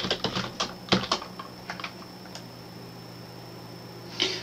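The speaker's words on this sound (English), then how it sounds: "So we type in our password" Keys tapped on a computer keyboard while a password is entered, a quick burst of clicks up front, then a few scattered taps with a pause and one last press near the end, soft and close.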